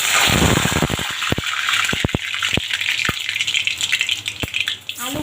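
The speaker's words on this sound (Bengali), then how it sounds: "তেল গরম হয়ে গেছে, এবার আলুগুলো ভেজে নেব।" Potatoes frying in hot oil in a kadai for a country chicken curry, giving a loud, steady sizzle broken by scattered sharp crackling pops.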